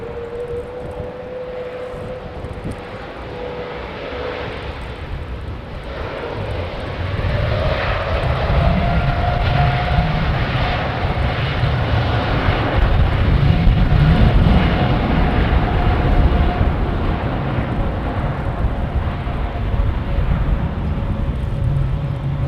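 An aircraft takes off from runway 09 using the full length, its engine roar swelling into a loud, continuous rumble with a steady whine that rises and drifts over about twenty seconds.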